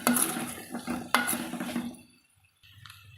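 A bowl of salted cassava snack mixture being stirred by hand, with busy scraping and clinking for about two seconds, then near silence with a soft low rustle at the end.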